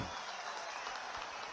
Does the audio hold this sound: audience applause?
yes